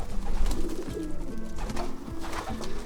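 Pigeons in a loft of fast racing birds coo repeatedly in a steady, overlapping rhythm, close by and moderately loud, with no voices.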